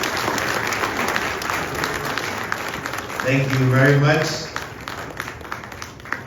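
Audience applause at an official meeting at Jubilee House, steady clapping from a gathered crowd with a voice speaking briefly over it and a louder swell in the middle.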